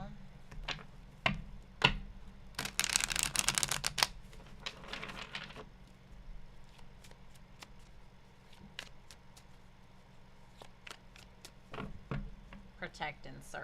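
Tarot cards are shuffled by hand at close range, a few soft riffling bursts and taps, busiest early on, then scattered light card contacts against a faint room hum.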